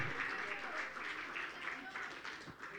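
Church congregation applauding together during an evangelical sermon, a dense, steady wash of clapping at moderate volume with some voices mixed in.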